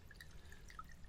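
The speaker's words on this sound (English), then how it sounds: "You just gotta find a nice place where you can stick the lip of your little bottle and fill up." Water drips and trickles steadily as a small bottle is filled outdoors from a natural spring or seep along a long-distance hiking trail, faint and close with a low background rumble.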